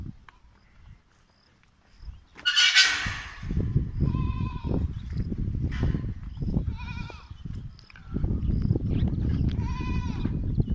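Goats on a goat farm in Indore bleat repeatedly, several loud wavering cries close by over a busy background of shuffling, rustling and movement, with no clear talk.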